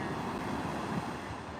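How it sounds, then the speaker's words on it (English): Ocean waves washing ashore at sunset on a San Diego beach, a steady, continuous surf wash with a low rumble, moderately quiet and unbroken, with some wind noise on the microphone and no voices. "Just listening to the waves."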